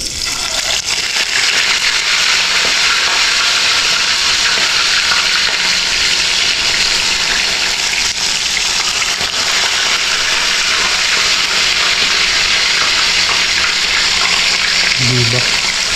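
Tilapia fries loudly in hot cooking oil, with a dense, steady sizzle and crackle holding close up throughout and a brief voice near the end.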